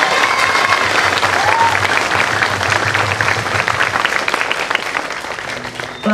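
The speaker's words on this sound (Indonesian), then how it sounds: "Tepuk tangan bagi Allah kita yang luar biasa." A congregation at a revival gathering in Mamasa claps loudly and continuously, a dense roomful of hands that thins slightly toward the end.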